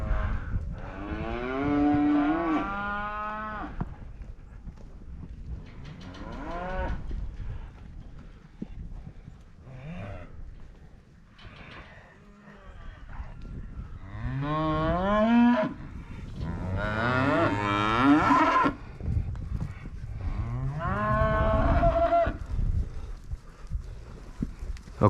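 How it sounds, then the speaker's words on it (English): Recently weaned calves moo repeatedly in a pen, loud drawn-out bellows from several animals overlapping at close range, with brief pauses between calls. "These are pretty high risk calves because they were just weaned day before yesterday."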